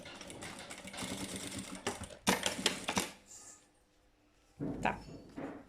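A domestic sewing machine runs a safety seam right along a fabric edge, stitching in a fast, rattling burst for about three seconds, going quiet, then starting again in a shorter run.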